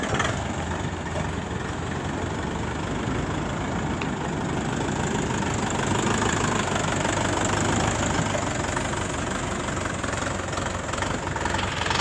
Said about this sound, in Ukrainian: Даний трактор на двигуні ЗН490, двохдискове щеплення.